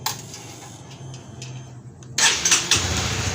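A Honda CBR 150 motorcycle, fitted with an aftermarket alarm, cranks and its engine catches, jumping from a low mechanical hum into a louder, rougher running note.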